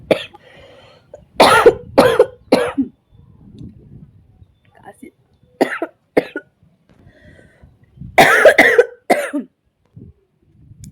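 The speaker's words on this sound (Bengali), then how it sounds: "কাশির লেভেলটা অনেক উপর পর্যায়ে উঠে গেছে" A woman coughs heavily in several harsh, close bursts, two clusters of three or four coughs separated by quieter breathing and throat sounds.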